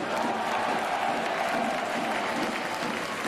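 Sustained applause from a hockey arena crowd, steady dense clapping that fills the space throughout with a faint murmur of voices underneath, a standing ovation for a player near the end of a match.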